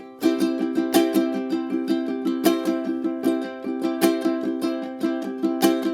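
Ukulele strummed in quick, even sixteenth-note strokes with accents on certain beats, bright and close with no voices.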